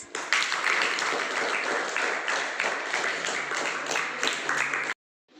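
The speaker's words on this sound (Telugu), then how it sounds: "Very good, claps." Seventh-class students in a classroom clap together for a classmate after a storytelling turn, a brisk, even burst of many hands lasting several seconds before stopping abruptly.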